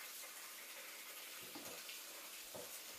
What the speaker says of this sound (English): I'm going to go over to the sink. I'm going to get us some warm water.